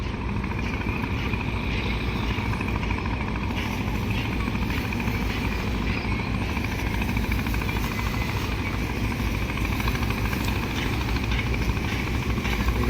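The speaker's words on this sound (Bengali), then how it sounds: "যা হালকা পাতলা স্পিডে এগোচ্ছে এমবি সম্পদ হস্তকলা ব্রিজ অতিক্রম করছে" The passenger launch MB Sampad passes under the Hastakala bridge at an easy speed, its engine a steady low drone and churning rumble that holds even and unbroken throughout.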